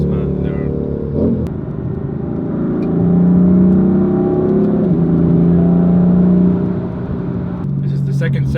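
BMW M4 engine revving hard through quick automatic-mode gear shifts, the pitch climbing and dropping in steps as it changes gear, loud and close, with someone talking over it.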